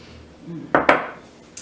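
Star anise is stirred into a dry herbal tea blend, producing two quick, sharp clinks close together after a soft rustle, fairly close and with no talking.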